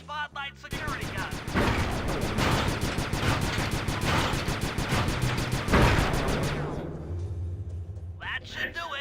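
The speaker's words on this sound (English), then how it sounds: "I'm overriding the spotlight security gun." Spotlight security gun firing in Sly 2: a rapid, steady machine-gun rattle of loud shots lasting about six seconds, then cutting out as a voice speaks briefly at the start and end.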